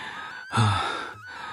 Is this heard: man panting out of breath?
yes